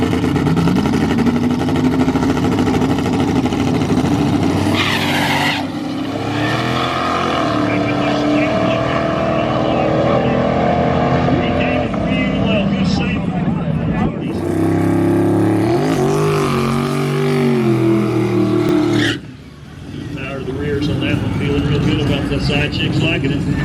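A drag race car's engine roars loud and sustained through a full pass after a failed burnout, its pitch climbing and shifting with gear changes before easing off near the end, with some people talking underneath.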